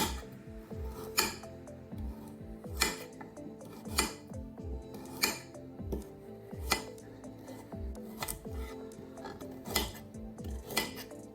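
Ceramic dishes clink and scrape repeatedly at a fairly regular pace, with soft clattering between the sharper knocks, fairly quiet and close.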